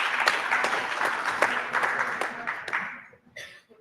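Audience at a European Jewish association conference applauding, moderate clapping with distinct individual claps standing out, tapering off over about three seconds before a brief voice.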